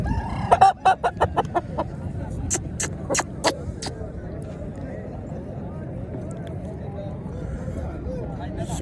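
An Aseel rooster at a poultry market crows in a series of loud, sharp bursts during the first few seconds, then fades into a steady murmur of market crowd noise and talk.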